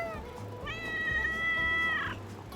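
Close, drawn-out meow from a stray cat in Manila, one long steady harmonic call lasting over a second and ending in a sharp rise, against low rumbling background noise.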